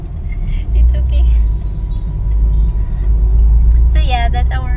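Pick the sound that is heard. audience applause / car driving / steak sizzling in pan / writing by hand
car driving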